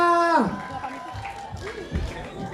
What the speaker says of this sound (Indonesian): tepuk tangan sekali lagi buat Luisa